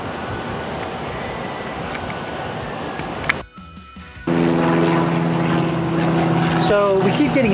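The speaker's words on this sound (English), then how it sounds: "So we keep getting airplanes flying over," A propeller airplane drones steadily overhead, loud and continuous, briefly cut off before the engine noise returns even stronger.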